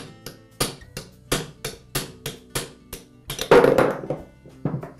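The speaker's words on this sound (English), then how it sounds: "use a punch and a hammer to remove the bearing" Sharp metallic hammer strikes on a punch knocking a bearing out of a Makita angle grinder, about ten evenly spaced blows with a brief scraping clatter midway.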